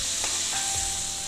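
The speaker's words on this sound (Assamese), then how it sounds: "এয়া চাওক মই গৰম পানী অলপ ঢালি আছোঁ" Hot water is poured onto fish in a cooking pot for a Kandули fish curry, giving a steady, close hiss and sizzle that lasts throughout.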